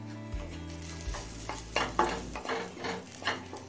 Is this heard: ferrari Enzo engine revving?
no